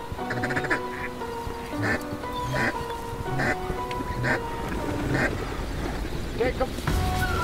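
A flock of ducks and geese calling as they fly in over a Manitoba waterfowl hunt, with dense overlapping quacks and honks throughout, close and loud, while hunters talk over them.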